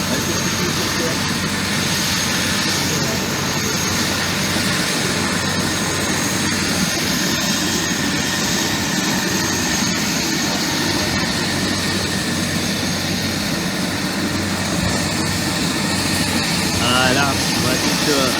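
A helicopter's engine and rotor run in a continuous loud roar with a steady drone, at the arrival event for Miss Guyane 2022 in French Guiana, with no breaks across the whole stretch.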